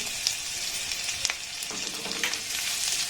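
Grated garlic and ginger with whole cumin sizzle and fry in hot oil, a steady close hiss with faint stirring scrapes now and then, no voices.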